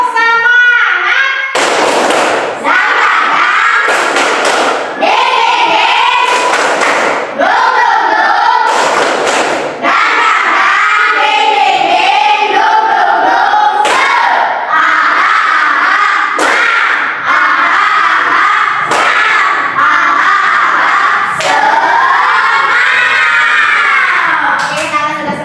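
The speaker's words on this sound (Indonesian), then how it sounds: "Sekarang kita tepuk semangat dulu." Indonesian classroom of standing students doing a tepuk semangat spirit clap: loud, close, rhythmic bursts of group clapping punctuating continuous chanting children's voices, repeating in a steady pattern for the whole stretch.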